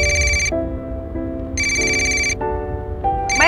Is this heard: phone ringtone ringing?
yes